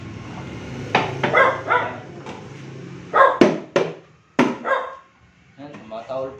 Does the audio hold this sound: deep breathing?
no